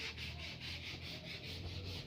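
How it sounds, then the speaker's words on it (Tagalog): Marine plywood being hand-sanded with sandpaper, close and steady, with a run of even back-and-forth rubbing strokes in a regular rhythm. "Smooth na smooth yung dinaanan ng liha niya."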